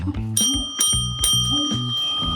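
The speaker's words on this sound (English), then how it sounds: "it's time for him to be in the den is we ring our bell." A bright metallic bell rings several times in quick succession at a Tasmanian devil enclosure, close and loud, its tone lingering between strikes.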